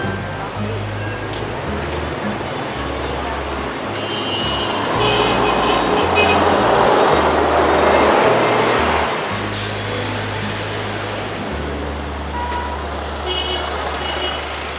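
Traffic on busy Nam Kỳ Khởi Nghĩa street in Saigon rumbles steadily with passing cars and a truck, surging louder midway and then easing, under a low background melody.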